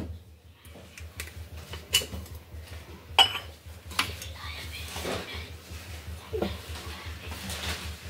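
Spice paste mixed with curd and mustard oil in a bowl for Rajasthani kanji vada, giving scattered spoon clinks and scrapes against the bowl, close and moderately loud, with soft background hum.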